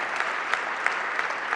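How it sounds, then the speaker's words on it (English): Continuous applause from an audience at a city hall swearing-in ceremony, an even wash of clapping heard alone and at moderate distance. "big round of applause"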